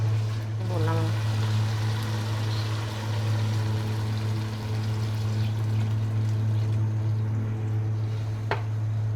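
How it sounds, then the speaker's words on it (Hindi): Water is poured into a pot of spiced potato rice (aloo tahari) on the stove, a continuous splashing pour over a steady low cooking hum, with no talk. "और अब मैं इसमें पानी शामिल करूँगी।"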